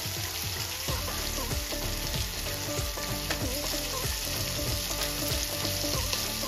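Pomfret fish frying on a tawa over medium flame, a loud continuous sizzle with crackling oil spatters, close and steady.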